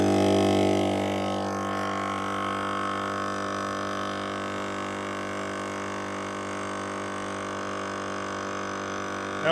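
An EZ Flate M.O.A.B. onboard air compressor runs on a truck, giving a steady, fairly loud electric drone with a constant tonal hum that holds unchanged throughout, with no voices.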